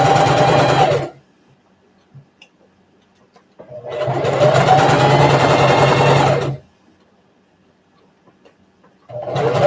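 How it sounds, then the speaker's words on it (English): Sewing machine stitching pajama fabric in two loud, close bursts of fast, even whirring, separated by a few seconds of near silence, with a third burst starting at the end. "I'm just going to sew across the corner of this."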